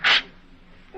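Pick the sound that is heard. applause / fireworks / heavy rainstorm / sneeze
sneeze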